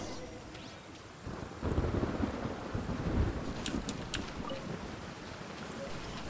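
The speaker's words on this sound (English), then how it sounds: "Ah, it's raining now." Rain and thunder in the video game Genshin Impact: a steady rushing downpour with a low rumbling roll that swells in the middle and lingers under the hiss, fairly faint and without talk.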